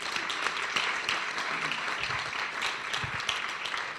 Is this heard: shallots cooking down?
no